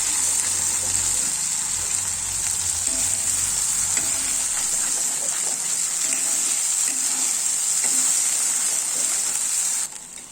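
Spice masala fries in hot oil in a kadai for an amti (dal curry), giving a steady, close sizzle with faint stirring scrapes throughout, then easing off at the very end.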